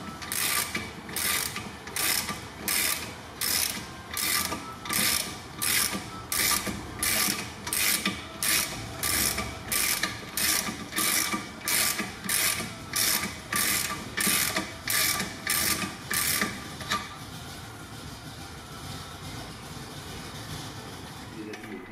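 A bicycle wheel bearing nut being turned after unlocking gives a loud, regular ratcheting click, about twenty evenly spaced bursts close up, then stopping abruptly with only a faint background hum.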